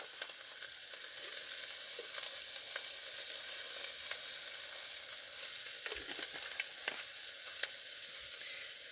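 Garlic powder frying in melted butter in a pan during RV cooking, a steady close sizzle running throughout with occasional soft stirring scrapes and pops.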